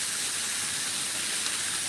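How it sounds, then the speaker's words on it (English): Bacon cooking in a pan, a dense continuous hiss and crackle of fat, steady and close without pause. "live and cooking bacon"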